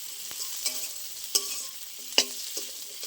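Boiled potatoes fry briefly in a pan under a soft, even sizzle, punctuated by distinct scraping and clinking strokes of a spatula stirring at irregular intervals.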